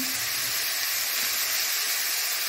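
Chopped tomatoes and coriander stems fry in a pan with a steady, close sizzle and soft hiss that holds evenly throughout, with no talking.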